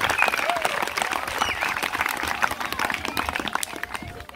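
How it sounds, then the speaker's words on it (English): Audience applause fills the room after a speaker's introduction, a dense, steady wash of many hands clapping close by for several seconds, with a few faint voices mixed in. "Let us clap for him."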